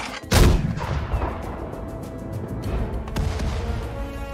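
Gunfire in the Sudden Strike 4 strategy game, set in the North African desert war campaign at El Alamein: one loud, close blast opens, followed by a steady rumble of battlefield noise and scattered later shots.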